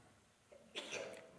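A single sneeze indoors, very faint and somewhat distant, a short sharp burst followed by a fading breathy tail.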